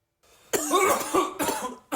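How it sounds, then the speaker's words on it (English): A man coughs after taking a dab, a few harsh, raspy bursts close to the mic, starting after a brief near-silence with a soft breath and ending on a final cough, with no talk. "Here's a post-dab cough with my husband."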